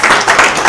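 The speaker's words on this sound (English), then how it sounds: "Another round of applause to all of our presenters and yourselves" Audience applause for a panel of presenters at a transitional justice policy symposium, a brief, steady wash of many hands clapping throughout.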